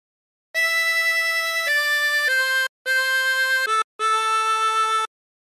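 A harmonica plays a phrase of Nearer My God To Thee, sustained reedy single notes held one after another, loud and close with two short breaths between groups.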